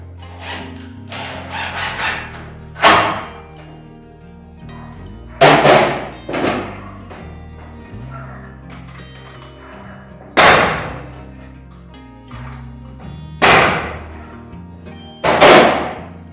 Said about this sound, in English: I can use a regular 20-ounce hammer.